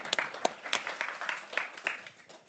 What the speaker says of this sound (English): Applause for Jenny.